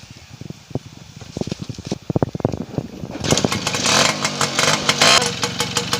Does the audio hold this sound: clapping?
no